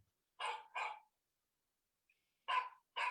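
A dog barks twice in quick succession, pauses in near silence, then barks twice more, each bark sharp and close.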